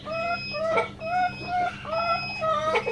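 Several chickens, including Tiger breed hens, cluck in short repeated bursts, fairly close, with no talking over them.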